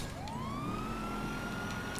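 In the video game GTA 5, a police car siren wails with a rising, sustained tone over the rumble of engines, somewhat distant and steady throughout.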